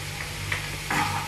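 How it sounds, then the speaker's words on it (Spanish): Chopped onion and garlic sauté in a pan with a short burst of soft sizzling and a few stirring scrapes over a low steady hum, close and fairly quiet. "Vamos a sofreírla, esto quiere decir ponerla transparente"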